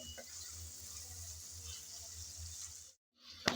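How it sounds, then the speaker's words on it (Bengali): Tomatoes stir-fried for a shrimp curry, a low steady sizzle under light stirring that cuts out near the end before a brief louder clatter returns. "টমেটো দিয়ে আবারও একটু নেড়ে চেড়ে ভালোভাবে কষিয়ে নিতে হবে"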